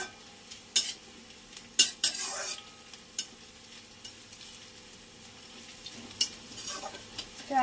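Ginger and garlic fry in a pan with a low continuous sizzle, punctuated by sharp spatula scrapes and metallic clanks of stirring at irregular intervals, close and fairly loud.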